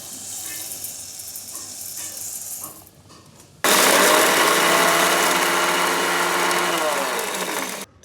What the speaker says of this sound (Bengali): অর্ধেক অর্ধেক ব্লেন্ডার করবো, পুরোপুরি ব্লেন্ডার করবো না